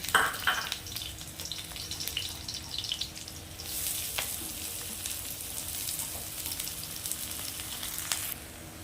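Garlic, onion and green chili frying in oil in a wok for sautéed greens, a steady close sizzle with a few clinks at the start and a brighter hiss that swells partway through, no talking.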